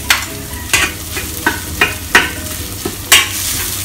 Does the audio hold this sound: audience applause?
no